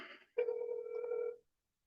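A telephone rings once as a live phone call is placed, a single clear electronic ring tone about a second long following a brief softer sound, with silence after.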